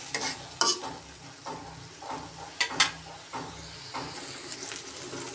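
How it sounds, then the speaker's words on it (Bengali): Spice paste frying in oil as it is stirred, with a soft, low sizzle broken by scraping strokes and a few sharp clinks of a utensil against the pan. "মশলাটা তো প্রায় ভাজা ভাজা হয়ে গেছে,"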